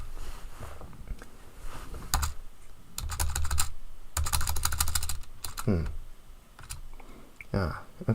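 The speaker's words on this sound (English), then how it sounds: "I just keep pressing the return button on my keyboard" Keys on a computer keyboard being pressed in bursts of quick clicks, including repeated taps of the return key, close up and fairly loud, with brief gaps between runs.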